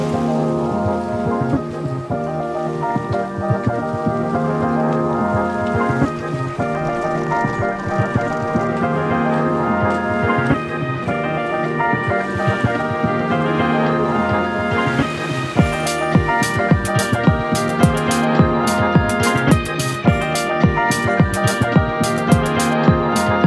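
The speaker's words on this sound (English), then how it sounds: "So, nagsa-start na naman mag-rain." Rain falls steadily outdoors at a hidden spot in Sipalay, a dense continuous hiss with sharper drop and patter clicks thickening toward the end.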